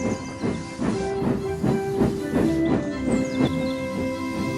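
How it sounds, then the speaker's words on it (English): Steam hisses loudly and continuously from the burst safety valve of a steam locomotive, with rhythmic pulsing surges over a steady tonal hum. "Gordon's safety valve has burst."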